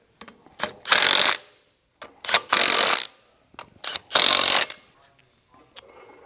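Final drive bolts on a Tilmor 520 tractor are tightened in a star pattern: three loud bursts of ratcheting wrench clicks, each a second or so long, separated by short pauses and small clicks.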